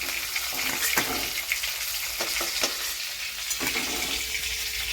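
Prawns sizzling in oil in a pan as they turn, a continuous moderate hiss and crackle with occasional sharp spatula scrapes and taps, fairly close and without speech.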